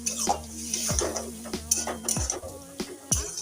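Spice paste of poppy seed, melon seed and white sesame being stirred into potato and ridge gourd in a metal pan, a spoon scraping and clinking against the pan in repeated close strokes over a faint sizzle.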